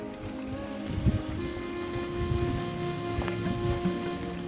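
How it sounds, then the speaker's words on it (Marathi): Steady rushing water flowing over a stepped dam, with a low droning hum underneath, continuous and fairly distant, with no voices. "हिरवा हिरवा पाणी मस्त आहे, वाहत आहे"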